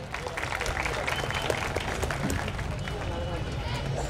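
Audience applause at a Badgujar community matrimonial introduction gathering, steady dense clapping from a large crowd sustained throughout with a busy, noisy texture and no clear voices on top.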